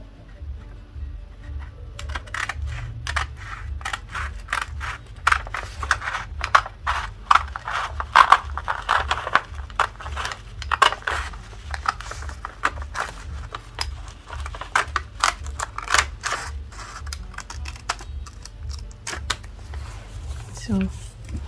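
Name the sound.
scissors cutting fabric for a round neckline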